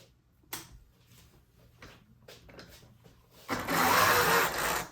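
An HO scale model train locomotive running in reverse gives faint clicks and knocks, then breaks into a louder steady mechanical whir for the last second and a half.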